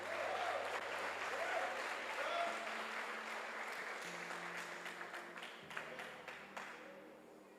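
Soft, distant applause from a church congregation during an evening service, with sustained low keyboard tones under the clapping, which gradually thins out.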